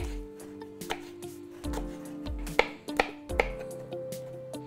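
Knife strokes chop chili and jalapeño peppers on a cutting board in an uneven rhythm, sharp close taps with brief pauses, no voices.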